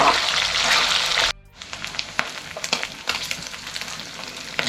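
Spiny eel fish heads frying in hot oil, a loud steady sizzle that cuts off briefly, then resumes as crackling spits and pops close by.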